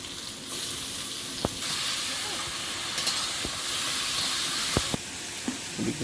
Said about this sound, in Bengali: আদা রসুন দিয়ে ভালো করে ভেজে নিয়েছি